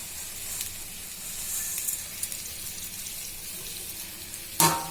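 Vermicelli dropped into a pan of boiling water, a soft bubbling hiss with faint scattered clinks and a sharp brief splash near the end.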